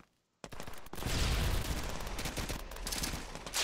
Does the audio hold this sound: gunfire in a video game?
yes